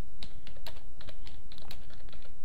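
Typing on a computer keyboard, a dense run of close, crisp key clicks at an uneven quick pace with no voices.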